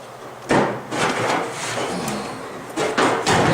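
A hammer and dolly strike the edges of a Ford Fairlane body panel, giving a few sharp metallic blows spaced irregularly with quieter handling noise between them.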